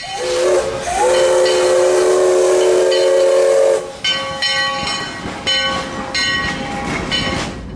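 A steam locomotive passes loudly on the track in central Florida, first a long sustained whistle blast, then a train of rhythmic chuffs and repeated whistle-like tones with hissing steam, close and dominant.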